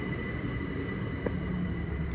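A train rumbles steadily at Teynham station on the Chatham Main Line, a continuous close, loud roar of wheels and carriages with no talk.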